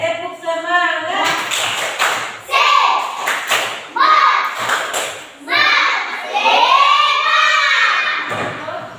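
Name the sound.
children doing the 'tepuk semangat' spirit clap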